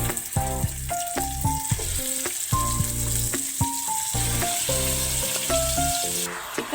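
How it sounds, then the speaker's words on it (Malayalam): Chicken pieces fry in coconut oil for a spicy chicken curry, hissing steadily at close range. Sharp clinks and scrapes of a utensil against the pan cut through the sizzle at irregular intervals. "ഇനി എടുത്ത് വെച്ചിരിക്കുന്ന ചിക്കൻ പീസുകളിട്ട് ജസ്റ്റ് ഒന്ന് ഫ്രൈ ആക്കി എടുക്കണം."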